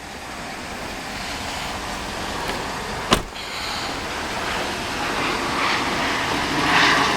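A 2011 Cadillac Escalade sits with its engine running outdoors, giving a steady low rumbling hum. A single sharp click cuts in partway through, and there is no talking.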